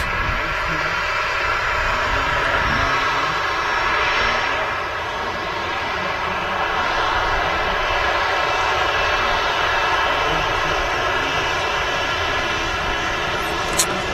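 A jet aircraft roars at Manchester Airport, a loud continuous broadband engine rumble and whine filling the whole stretch, swelling slightly midway, with voices talking underneath.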